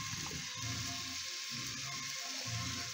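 Carrots and onions sizzle steadily in a pan of yellow curry base, a close, continuous frying hiss with a faint stir partway through and no talking.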